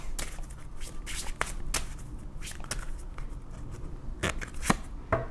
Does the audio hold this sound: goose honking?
no